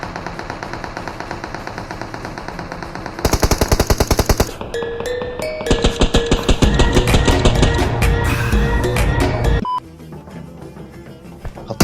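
Rapid bursts of PUBG Mobile gunfire with automatic rattling and sharp shots over game music and effects, loud and continuous, fading to quieter tones near the end.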